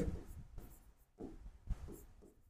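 Handwritten accounting code names being scribbled onto paper, with several bursts of pen strokes in a quiet room and no talking.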